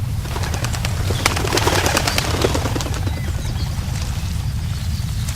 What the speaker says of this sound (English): Birds burst from the trees, flying out into the blue sky.